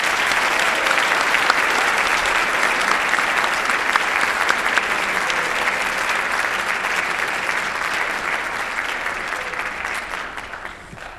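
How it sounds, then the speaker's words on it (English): Sustained, even applause fills a high school National Honor Society induction ceremony as an audience claps for the new inductees, holding steady for several seconds before easing slightly at the end. "Can we please have a round of applause for all the new inductees?"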